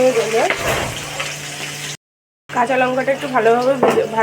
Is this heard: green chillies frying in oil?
yes